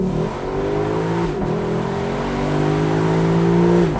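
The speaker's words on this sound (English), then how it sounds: "Let's see if we can just quickly launch this thing, go back into drive." A 2026 Lexus LC 500 Convertible launches hard from a brake-torqued start, its engine note rising steadily under full acceleration with a short dip at a gear change, loud and close throughout.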